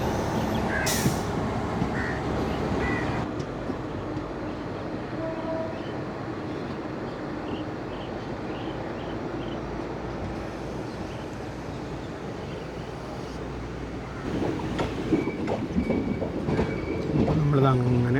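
Intercity Express train rolling into Shoranur Junction, heard from on board: a continuous rumble of wheels on rail with clacks and brief squeals, plus a voice talking now and then over the noise.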